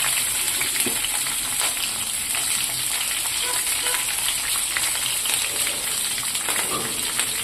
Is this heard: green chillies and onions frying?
yes